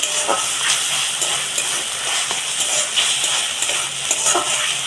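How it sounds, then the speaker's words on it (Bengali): Ginger-garlic paste sautéing with lightly fried onions, a dense, loud, continuous sizzle and hiss with faint stirring scrapes, no talk. "আদা রসুনটা দিয়ে তো খানিকটা কষে নেব"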